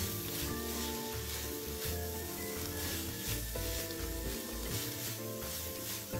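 Ingredients stir-fried together in a pan with sugar, pepper, sesame oil, oyster sauce and dark soy sauce, giving a steady close sizzle with scraping stirs throughout, no voices.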